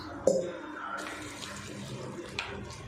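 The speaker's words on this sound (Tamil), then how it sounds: "தண்ணி சேர்த்துட்டு இது ஒரு டைம் வாஷ் பண்ணி வச்சுக்கலாம்" Water poured into a mixing bowl to rinse snack ingredients, giving a brief splash followed by soft sloshing and swirling, with someone speaking over it.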